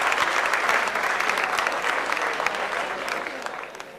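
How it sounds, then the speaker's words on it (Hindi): Enthusiastic audience clapping welcoming a poet at a Delhi mushaira, dense and loud, sustained for the whole stretch with only a slight fade near the end. "जोरदार तालियों से इस्तकबाल करें"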